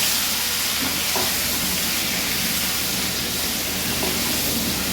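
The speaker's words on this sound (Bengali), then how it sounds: "পটলটা দিয়ে দিচ্ছি এবার পটলটা ভেজে নেব" Pointed gourd (potol) pieces fry in hot oil, giving a loud, steady sizzle and hiss that holds evenly throughout without pause.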